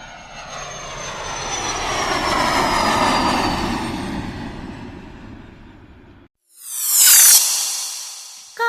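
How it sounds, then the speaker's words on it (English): A military fighter jet flies past, its loud roar swelling and then fading over several seconds with a falling whine, followed by a second sharp jet whoosh that rises and drops off quickly. "Fighter jet, a fast plane used by the army to protect the country."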